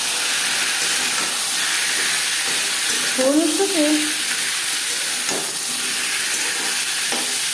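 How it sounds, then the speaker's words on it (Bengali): Potatoes sizzle in hot oil with five-spice and bay leaf, a steady loud frying hiss that runs throughout, with a brief scrape of stirring partway through. "পাঁচ ফোড়ন তেজপাতা ভেজে নেওয়ার পর দিয়ে দেবো আলু"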